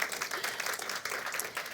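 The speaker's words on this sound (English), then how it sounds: "And you can clap for that, because that was really cool." Audience applause at a live storytelling event, a steady wash of many hands clapping throughout, moderately distant and sustained without a break.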